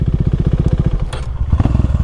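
A KTM Duke motorcycle engine runs close and loud with a rapid, even thumping pulse, briefly dipping before the beat picks back up. No voices are heard.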